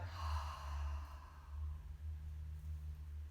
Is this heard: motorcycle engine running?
no